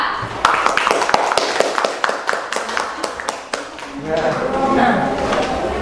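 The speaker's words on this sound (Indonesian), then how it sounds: "sekarang kelompok yang lain sekarang berikan aplaus untuk kelompok Garuda" A classroom gives the Garuda group a short burst of applause: sharp, irregular hand claps ring out for about three seconds, then fade as voices start talking.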